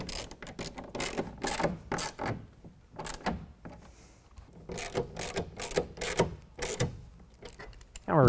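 A ratchet and socket clicks in repeated bursts as a tonneau cover bracket is tightened to the deck rail on a Toyota Tacoma, with short pauses between strokes and a louder knock at the end.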